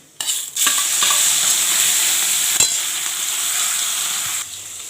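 Prawns go into hot oil with mustard seeds, fenugreek, radhuni and bay leaf, erupting into a sudden loud, hissing fry that holds steady for several seconds, broken by a sharp utensil clack, then quiets.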